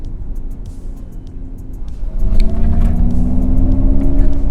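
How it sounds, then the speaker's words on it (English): Mercedes-Benz EQS electric car playing its Vivid Flux synthetic driving sound through the music system, a guttural synthetic drone that swells louder partway through with rising layered tones over deep rumble, close and sustained. "this Vivid Flux, that sounds a little bit more guttural, but it's also quite synthetic"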